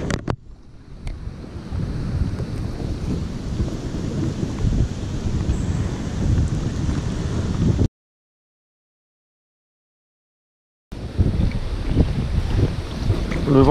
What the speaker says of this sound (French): Le vent se lève de plus belle.